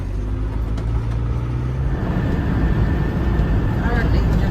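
A motorhome drives along a road through vineyards on a cloudy, humid day, giving a steady, close engine drone and road rumble under continuous low noise, with a brief low tone early on.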